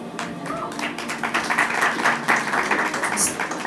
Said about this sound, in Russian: Как-то громче давайте аплодисменты,